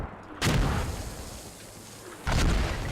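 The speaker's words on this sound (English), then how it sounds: "Oh, and then the mortar takes all of them out for good measure." Mortar explosions in a competitive multiplayer video game match, two loud booming blasts, one early and one near the end, over a steady rumbling battle background.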